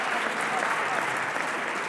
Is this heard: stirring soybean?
no